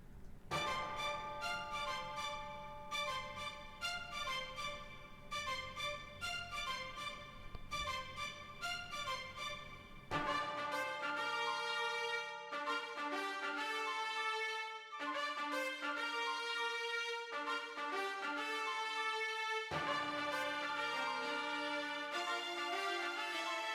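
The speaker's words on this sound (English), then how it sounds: "we add the timpani and the tubular bells to add that" Orchestral music with ringing tubular bells and booming timpani, full and sustained, with a brief drop in the low end partway through.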